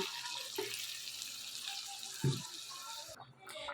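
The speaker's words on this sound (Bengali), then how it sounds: "এবার আমি এতে পরিমাণ মতো জল অ্যাড করে দেব।" Water pours into home-style chicken curry in a pan, a soft, brief splash and trickle over a low simmer, ending in a short gurgle.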